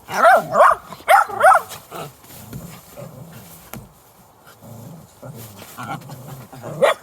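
Dogs settling into a tent at bedtime while camping: several short barks and whiny yelps in bursts, close by, with lower grunting and rustling between them.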